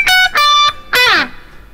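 Electric guitar played with delay and reverb effects: a few sustained chords ring out in separate bursts, the last sliding downward and trailing off into a fading echo tail.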